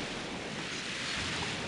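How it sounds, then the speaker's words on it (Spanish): Ocean waves in Paper Mario: The Thousand-Year Door roll in as a steady, continuous wash of surf, moderately loud and unbroken. "Y esta vez van las olas."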